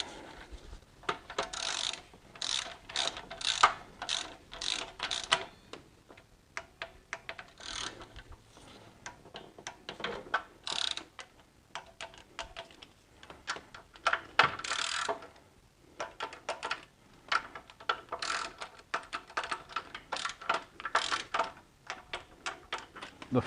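A hand ratchet clicks in quick, repeated bursts while tightening timing-component bolts on a BMW E46 M54 engine, close and fairly quiet, with brief pauses between strokes.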